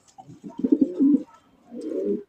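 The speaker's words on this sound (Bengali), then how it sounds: "দেখেন কত সুন্দর একজন আপনার রাজশাহী হাই ফ্লাইং গিরিবাজ কবুতর পাইতেছেন সবজি কালার মধ্যে" A Rajshahi high-flying Giribaz pigeon coos close by in two soft, throaty bursts with a short pause between them.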